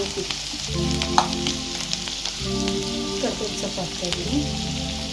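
Onion and tomato frying in oil for a Katla fish curry, a loud, close, continuous sizzle with bursts of crackle and occasional stirring, with no voices.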